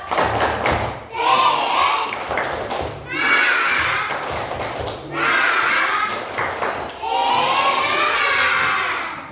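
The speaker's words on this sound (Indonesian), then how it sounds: "sebelum belajar kita tepuk semangat dulu ya" A class of children chant together and clap in unison, repeated loud rhythmic bursts of shouted voices and sharp hand claps in a classroom, coming in waves with brief pauses between.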